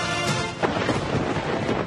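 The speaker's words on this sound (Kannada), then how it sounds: "ವಾಣಿಜ್ಯ ನಗರಿಯಲ್ಲಿ ಮಳೆ ಅಬ್ಬರ" Heavy monsoon rain pouring down in Mumbai, a dense, steady roar with a brief crackling burst partway through, loud and continuous with no voices.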